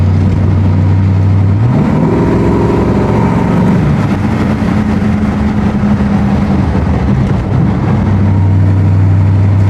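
A 1955 Oldsmobile with a swapped-in 4L60E transmission drives along, its engine humming loud and close, rising in pitch as it accelerates and shifts, then settling back to a steady cruising drone.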